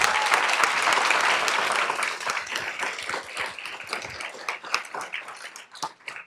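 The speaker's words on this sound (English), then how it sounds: "Can we give them another round of applause" Applause from the audience at a school board business meeting: a dense burst of clapping that starts loud and thins out over about six seconds into scattered claps, with no talking over it.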